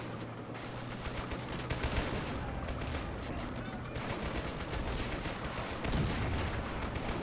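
British anti-tank guns come under heavy gunfire in a Normandy battle in Men of War, with dense, rapid shots rattling continuously at moderate loudness and a few heavier thumps among them.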